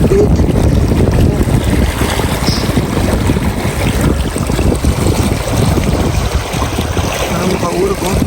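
Cold running water of a stream in Canada rushes loudly and continuously, a broad steady hiss mixed with buffeting wind noise against the microphone.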